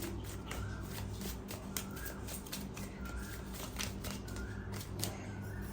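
Tarot cards being shuffled by hand in a quick, steady riffle of papery flicks and slaps that continues for several seconds, close and clear, with no talking.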